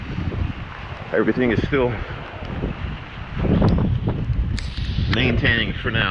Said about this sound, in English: Wind is definitely picking up.